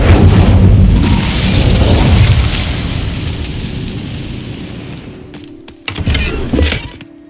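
A loud fiery whoosh of the Incendio fire spell in Hogwarts Legacy, a roaring burst that slowly fades over several seconds before a couple of short sharp impacts near the end.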